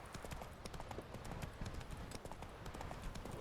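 Geralt's horse Roach in The Witcher 3 video game trots with steady, rapid clip-clop hoofbeats over a constant low rumble, fairly close and without talk.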